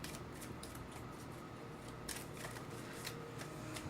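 A deck of playing cards is shuffled at a table before a match, giving quiet repeated riffling and snapping bursts in an otherwise soft, steady room background.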